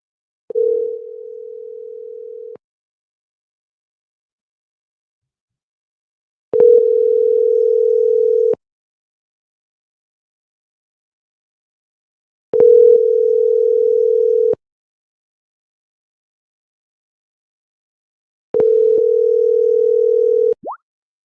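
A telephone ringback tone repeats four times while a call is placed, each a steady two-second burst separated by long silent gaps, clear and alone.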